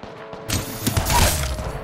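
Charge rifle shots in the video game Apex Legends: a sudden loud burst of gunfire and impact noise starting partway in, with crashing, echoing bursts that sustain to the end.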